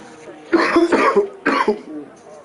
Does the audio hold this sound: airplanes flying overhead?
no